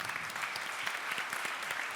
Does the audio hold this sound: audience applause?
yes